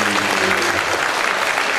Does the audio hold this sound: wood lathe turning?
no